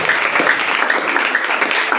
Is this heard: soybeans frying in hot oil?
no